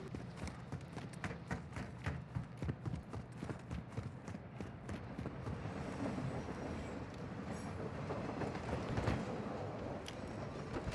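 A moving train in Call of Duty DMZ, with a steady rumble and rhythmic clacking of wheels over the rails, continuous and fairly even, swelling slightly in the second half.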